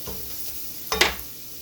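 A spoon stirs a roux of bacon fat, butter and andouille sausage in a pan. There is a soft sizzle and one sharp scrape-and-clatter burst midway through the short stretch.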